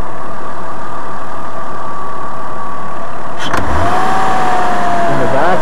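A 2001 Ford Escape V6 runs steadily close by, a continuous engine drone with a faint hiss of air being sucked in around the intake manifold gaskets, while a person talks over it.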